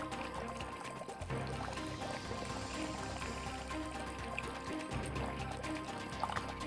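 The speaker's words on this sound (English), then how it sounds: "The press wrings out the linen with a 200-ton weight and squeezes out a brown" Raw soy sauce is wrung out of linen by a 200-ton press, giving a steady pouring, trickling rush of liquid. It is dense and continuous with mechanical rumble underneath, and no voices.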